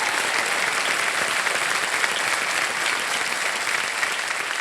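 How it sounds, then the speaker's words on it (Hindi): A television quiz show studio audience breaks into sustained, even applause, a thick continuous clapping that holds steady throughout without pause. "एक बार फिर जोरदार तालियां"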